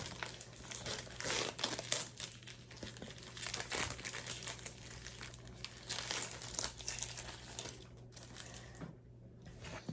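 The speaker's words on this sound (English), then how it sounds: "So we're going to peel the plastic off and we're going to do unboxing." Plastic wrap being peeled off REMO Eyewear packaging, a close, continuous crinkling and crackling with steady handling noise and no talk.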